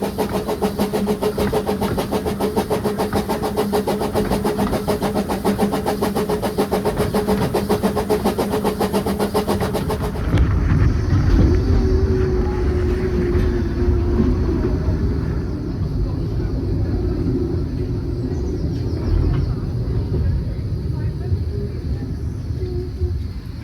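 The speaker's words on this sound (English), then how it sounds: "Steep climb into Bala Station." Train on the Bala Lake Railway climbing a steep gradient into Bala Station, a loud steady engine drone with a rhythmic pulsing beat, shifting partway to a deeper rumble with some voices in the background.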